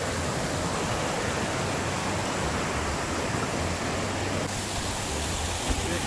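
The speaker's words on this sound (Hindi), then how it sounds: "मैं आपको दिखाता हूँ यहाँ वाटरफॉल है" A mountain waterfall in Uttarakhand roars steadily, a loud, unbroken broadband rush of falling water with no voices.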